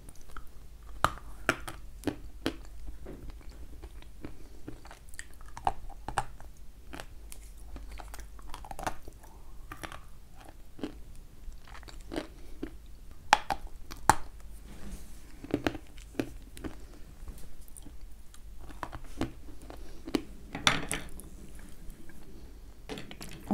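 A dense Kyrgyz sweet is bitten and chewed up close, with soft sticky crunches and squishy mastication repeating irregularly in a quiet room, alone with no talking.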